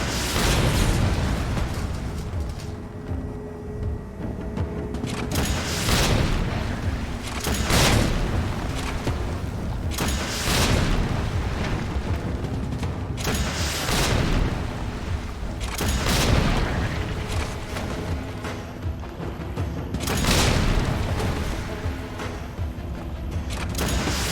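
Gunfire from shooting zombies in the Resident Evil 3 video game on Hardcore mode: loud, booming shots in irregular clusters roughly every couple of seconds over a constant dense rumble of game sound, with no voices.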